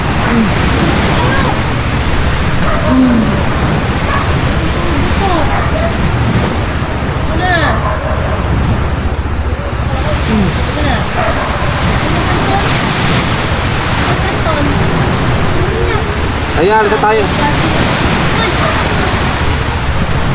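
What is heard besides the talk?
sea waves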